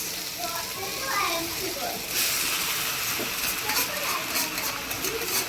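Hakka noodles made with whole-wheat flour, stirred and frying in an oiled pan, giving a steady sizzling hiss with occasional scraping while a person talks over it.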